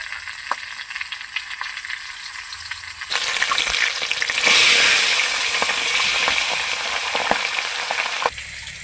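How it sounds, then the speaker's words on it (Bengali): A large rohu fish head fries in hot mustard oil in a kadai, a steady loud sizzle that swells sharply partway through as the oil spits and crackles, with occasional sharp pops, and no talking. "মাছের মাথাটা কিছুক্ষণ ভেজে নিলাম"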